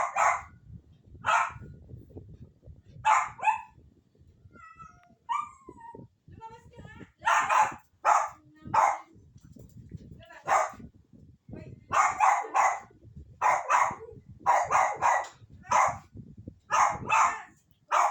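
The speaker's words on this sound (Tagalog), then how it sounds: "Kasi kakahol sila eh." Dogs bark repeatedly at close range in bursts and pairs, loud and insistent, while people talk quietly underneath between the barks.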